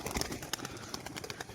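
Pet pigeon of a performing tumbler breed giving soft, close cooing calls in short repeated bursts, no voices over it.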